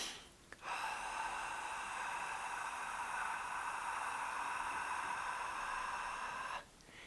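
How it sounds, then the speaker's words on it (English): A long, slow exhale during a resonant breathing exercise, heard as a steady hiss of breath that holds evenly for about six seconds after a brief intake, close and fairly quiet with no talking. "as we make that long out breath, we're following the rule of heart rate variability resonant breathing"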